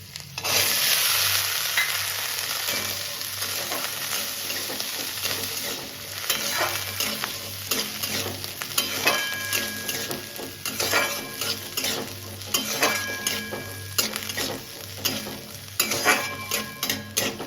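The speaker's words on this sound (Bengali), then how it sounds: "এবার দিয়ে দিচ্ছি মটরশুঁটি" Green peas are tipped into a hot pan with chopped green chilli and stirred, giving a close sizzle with repeated scraping and clinking of a utensil against the pan.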